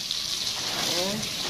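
Water sprayed from a hose onto a newly installed metal gate: a steady, even hiss of gushing water throughout, close and continuous.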